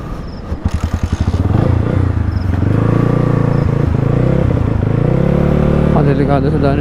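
A motorcycle on the road sputters and pops unevenly at first, then settles into a loud, close, rough engine drone with rattling and clatter throughout.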